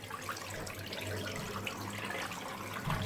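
Cold tap water rinses through a green cotton K&N air filter from one side, a steady close splashing flow of water over the gauze, even and unbroken throughout.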